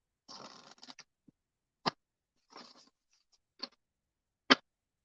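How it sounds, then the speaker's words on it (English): Tarot cards being shuffled in short, crisp papery bursts, separated by sharp snaps as the deck is tapped or squared, close and quiet against silence. "How satisfying is that shuffle, man?"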